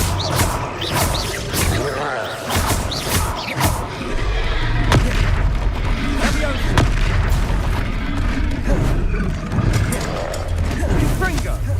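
The Confringo blasting spell in Hogwarts Legacy fires off repeated fiery explosions, a dense run of booming bursts and crashing impacts over a loud continuous rumble, with a voice shouting over the combat.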